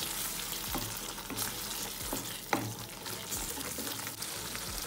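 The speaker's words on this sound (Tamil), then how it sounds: "எல்லாத்தையும் போட்டு கலந்து ஒரு ரெண்டு நிமிஷத்துக்கு வேக விட்டுறேன்." A spiced masala mixture with garam masala cooks in a pan, giving a soft, steady sizzle with intermittent scraping stirs and a light knock, fairly quiet and with no talking.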